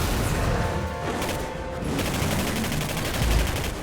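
Heavy gunfire rattles through a boss fight in the video game Singularity, dense overlapping bursts and impacts filling the whole stretch, loud and continuous with a heavier thump near the end.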